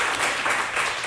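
Audience applause from a live podcast crowd, a steady broadband clatter of many hands filling the whole moment at moderate loudness with no voices over it.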